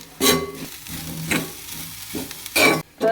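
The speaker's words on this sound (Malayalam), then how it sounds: "ഇതിൻ്റെ കൂടെ നമുക്ക് തേങ്ങ ഒന്ന് വറുത്തെടുക്കാം കേട്ടോ" Grated coconut roasting in a pan as it is stirred, with three distinct bursts of scraping, rustling stirring over a low, steady background, and no talking.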